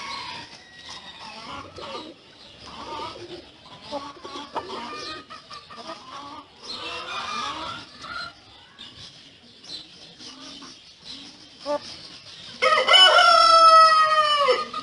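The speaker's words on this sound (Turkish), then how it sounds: "Horozumuz da ötüyor." A rooster crows loudly and close by near the end, following a stretch of clucking Brahma hens and busy farmyard bird noise.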